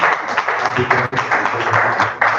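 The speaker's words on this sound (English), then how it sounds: "I'd like us to give another round of applause to our first speaker" A symposium audience applauds the first speaker, a dense, steady patter of many hands at moderate distance lasting a couple of seconds, with some voices mixed in.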